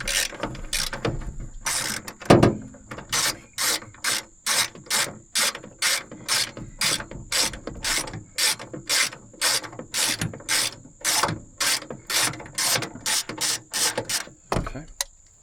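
A hand ratchet loosens a bolt on the reservoir of a 2010 Chevy Tahoe 5.3, a long run of steady, close clicking strokes with a brief pause and a clunk near the start.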